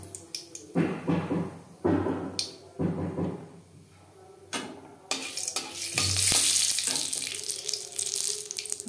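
Bay leaves sizzle as they hit hot refined oil in a wok while mutton kosha gets underway, with bursts of stirring and clattering, then a brighter, steady frying hiss rising toward the end.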